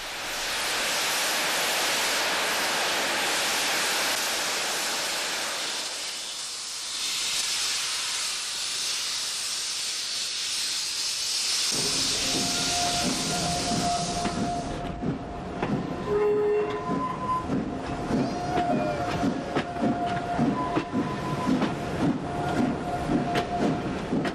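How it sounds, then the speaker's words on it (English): The steam locomotive Merlin starts off on an Irish railway: a loud, steady hiss of steam at first, then chuffing and clanking with rhythmic rail noise as the train moves away. "Once the steam locomotive, with the beautiful name of Merlin, gets started, we travel toward Portrush in the north of Ireland."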